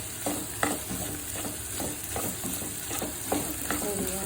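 Chilli chicken ingredients sautéing in a hot pan, a steady sizzle and fry broken by repeated stirring scrapes and clacks at an even rhythm, close and clear with no talking.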